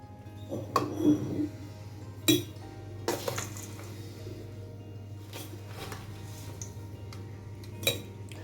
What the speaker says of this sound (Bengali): এবার এটাকে একটা কাঁচের কন্টেনারে ভরে আমি রেখে দেব